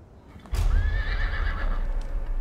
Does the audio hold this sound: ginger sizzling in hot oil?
no